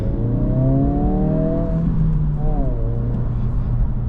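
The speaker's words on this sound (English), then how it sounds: "you can still hear the blow off in the turbos in this" A car engine accelerates with rising turbo whine and then drops back as the throttle lifts, ending in a brief blow-off hiss, loud and close inside the cabin with a steady engine drone throughout.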